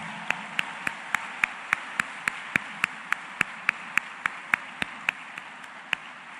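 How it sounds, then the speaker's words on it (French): Slow, evenly spaced single hand claps ring out about every third of a second over a faint murmuring room, a sparse rhythmic applause for agronomy scholars at a centenary ceremony, with no talk on top. "Camper pour nous applaudir encore une fois."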